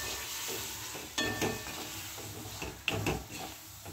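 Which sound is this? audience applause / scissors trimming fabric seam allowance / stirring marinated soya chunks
stirring marinated soya chunks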